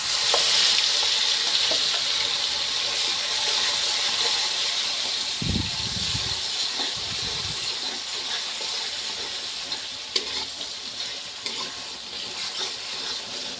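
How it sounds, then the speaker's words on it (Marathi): Green masala paste fries in a pan with whole spices and bay leaves, giving a loud continuous sizzle and hiss while a spoon stirs it intermittently in short bursts, with no speech. "आता आपल्याला टाकायचा आपला हा हिरवा मसाला।"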